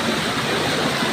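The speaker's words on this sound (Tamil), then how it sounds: "களக்காடு அருவி" Kalakkad waterfall pours in a loud, continuous broadband rush of falling water, steady and close, with no voices.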